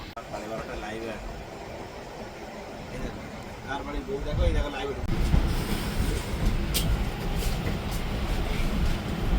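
A train pulls into Balasore station in Odisha at night, rumbling and clattering close by as wheels squeal and the noise grows louder, with people talking over it.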